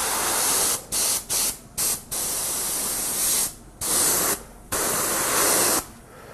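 Badger airbrush spraying cleaner fluid, a steady close hiss broken by several short pauses where the trigger is released, then resuming in longer bursts.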